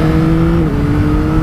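A loud Yamaha XSR900 GP motorcycle engine drones steadily and close, with a strong low tonal hum that shifts slightly in pitch as it revs, no voices.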